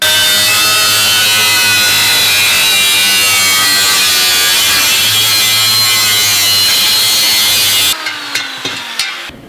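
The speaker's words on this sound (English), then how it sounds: "I'm gonna cut it in half with this angle grinder over here." An angle grinder cuts through a motorcycle fender for a Honda CB500F, held in a vise: a loud, steady high-pitched whine of the disc biting metal that runs unbroken for about eight seconds, then stops abruptly into a few short clatters.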